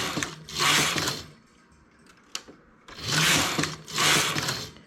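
A knitting machine carriage slides across the bed knitting rows, giving three loud swooshing passes with a rattling mechanical edge, separated by quieter clicks as needles are raised.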